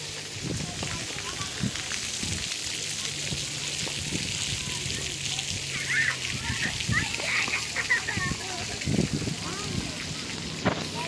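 Children splashing and playing in water at an outdoor splash pad on a warm day, a steady watery spatter with scattered splashes and shouts, with people talking nearby throughout.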